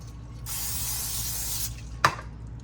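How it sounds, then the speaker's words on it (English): A steady hiss of cooking spray onto a paper plate lasting about a second, followed by a brief sharp knock. "I'm going to take my paper plate and I'm going to spray."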